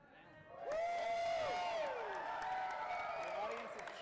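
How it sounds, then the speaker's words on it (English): An audience at the TSL Battle of Champions fighting tournament cheers and whoops loudly, rising quickly and holding as a sustained roar of voices with shrill, sliding calls. "The audience is cheering for both our fighters."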